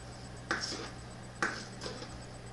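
A knife slices fat off a cut of meat during meal prep, giving two sharp, close cutting strokes about a second apart against a quiet room hum.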